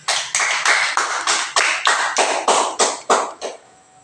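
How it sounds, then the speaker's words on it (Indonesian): A small group claps in about eleven distinct, evenly spaced bursts, each a sharp cluster of hand claps, loud and close with no talking over them, fading out at the end. "Kita kasih tepuk tangan dulu."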